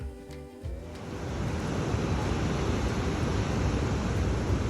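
Tidal rapids at Reversing Falls in Canada, a broad steady roar of rushing water that swells after a brief quieter start, with wind buffeting the microphone.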